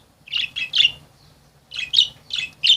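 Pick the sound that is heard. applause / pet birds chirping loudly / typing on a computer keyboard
pet birds chirping loudly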